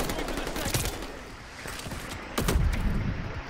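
Automatic gunfire and scattered shots in Call of Duty: Black Ops Cold War, an uneven run of sharp bursts with a louder cluster of shots late in the clip.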